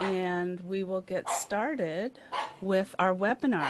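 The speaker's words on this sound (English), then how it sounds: "Sorry about my dog." A dog yips and barks in a quick series of high, excited calls right by the microphone, alternating with a person speaking.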